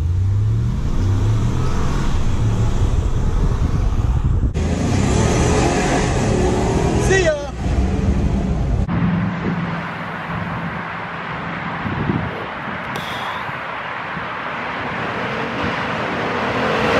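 A 2021 Ford F150 and a 2021 RAM 1500 pickup accelerating hard in a drag race, a loud sustained engine roar and wind rush that peaks midway and then eases off into fading road noise.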